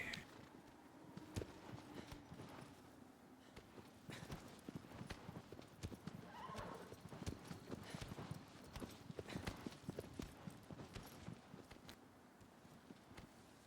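Hooves clip-clop steadily on the ground as a horse moves through Shadow of the Colossus, with a faint breath of wind behind the rhythmic footfalls.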